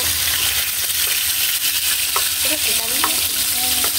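Onions frying and being stirred in a pan for chopsuey, with a continuous loud sizzle broken by scraping utensil strokes against the pan.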